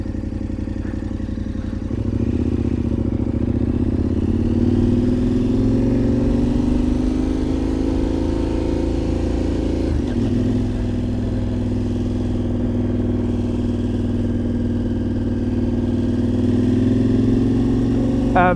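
A KTM 1290 motorcycle riding on an open road, its engine droning steadily and loudly throughout with smooth pitch swells as the revs rise and fall, no voices.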